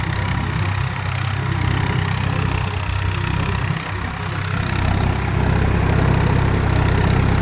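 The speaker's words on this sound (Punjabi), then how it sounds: "ਬਹੁਤ ਸ਼ਾਨਦਾਰ ਟਰੈਕਟਰ ਹੈ ਯਾਰ ਚੱਲਣ 'ਚ" A Swaraj 855 4x4 tractor engine runs steadily, a loud, close diesel rumble with a constant low throb and mechanical rattle that continues without pause and carries no talk.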